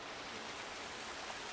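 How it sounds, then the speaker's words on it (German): A waterfall in the video game Sea of Thieves, heard as a steady broadband rush of falling water, soft and continuous, with no other sounds. "ich bin hinter diesem Wasserfall"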